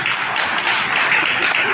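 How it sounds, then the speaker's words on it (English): Loud, dense applause from an audience at an awards night, many hands clapping in a continuous bright wash that holds steady from start to finish. "Another warm round of applause, please."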